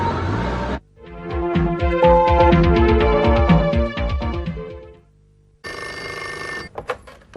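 An old telephone bell rings loudly in a PTV classic drama set at a guest house, sounding in a long trilling burst, then pausing and starting again.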